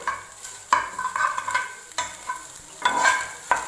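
Egg bhujia fries in a pan with a close, moderate sizzle broken by repeated scraping stirs of a spatula at irregular intervals.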